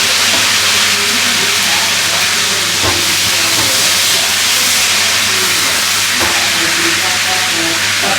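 Green chilies and curry leaves sizzling in hot oil make a loud, steady hiss that fills the whole clip, with a few faint clinks in the background.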